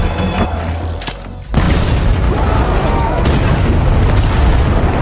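A loud explosion in an action film scene with mercenaries at a cabin erupts after a brief lull, followed by a heavy continuous roar and rumbling debris that stays close and forceful to the end.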